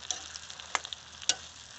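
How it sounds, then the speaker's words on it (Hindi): Potatoes stirred and fried in a pan with asafoetida, a faint low sizzle broken by two or three light scraping clicks of the spoon. "मैं इसको अच्छी तरह से भून लूँगी आलू को।"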